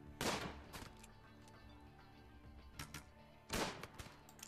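Gunfire in the RimWorld video game during a zombie infestation, with a few separate sharp bursts of shots set apart by quiet stretches over a low background drone.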